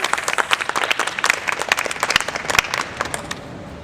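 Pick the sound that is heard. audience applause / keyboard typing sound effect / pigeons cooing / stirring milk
audience applause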